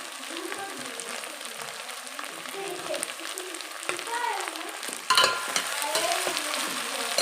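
Mixed vegetables sizzle and crackle in a pan while being cooked for soya vegetable pulao, a steady frying hiss with occasional stirring scrapes and a louder clatter near the end, with a voice talking over it.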